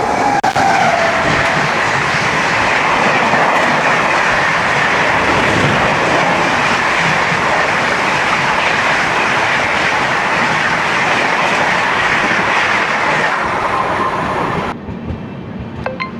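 The Hazur Sahib Nanded–Santragachi Weekly Superfast, train 12767, rushes past close by in Odisha with a loud, continuous rumble and rattling wheel clatter that cuts off abruptly near the end.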